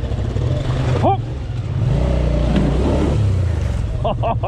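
A dual-sport motorcycle engine rumbles and revs close by, a loud rising drone with a brief rev near the start, while people talk over it.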